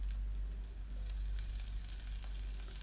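Garlic and sliced onions frying in hot oil for Kumbakonam kadappa, a soft, continuous sizzle with faint crackles over a low steady hum, quiet and unbroken throughout.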